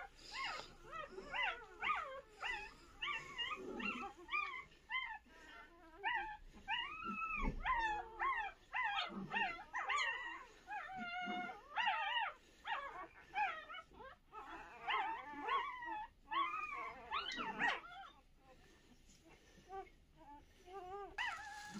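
A two-month-old abandoned Teddy (toy poodle) puppy whimpers, yips and howls in a long run of high, wavering cries, close and fairly loud, with no talking over it.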